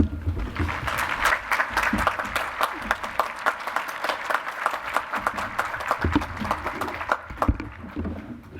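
A baccalaureate ceremony audience at Washington and Lee University applauds to welcome a speaker, a sustained dense clapping of many hands that stays steady and close throughout with no voices on top.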